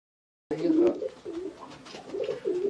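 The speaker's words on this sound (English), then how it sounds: "And do these pigeons go out, Staf, outside?" Racing pigeons in an aviary give soft, repeated throaty coos close by after a moment of silence, with faint talking mixed in.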